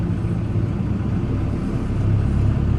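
A Land Pride 2672 brush mower runs on a tractor PTO at low RPM, a loud steady low rumble with some clanking and jostling, no voices.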